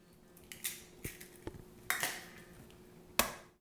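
Two eggs cracked into a bowl for gluten-free coconut flour crepes: a series of sharp, close taps and clicks of shell, spaced irregularly, with a final crisp crack, quiet and without talk.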